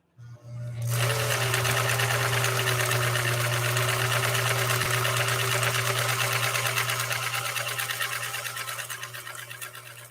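A Swedish sewing machine stitches a decorative pattern in 100% cotton thread with a stiffener through a leather needle, running at a fast, even mechanical clatter with a steady motor hum that starts abruptly and fades slightly near the end.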